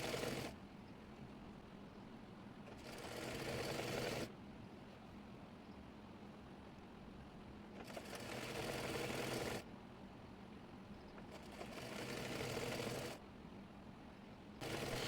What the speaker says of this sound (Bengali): এরপর সেমিজের বডি পার্টের উপরে হাতাটি রেখে সেলাই করে নেব।